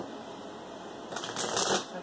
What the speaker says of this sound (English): they only requested 3 shuffles today